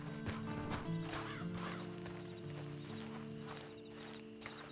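Horse hooves clip-clop in Red Dead Online, a steady walking rhythm close by, mixed with an occasional whinny over a layered ambient game soundscape.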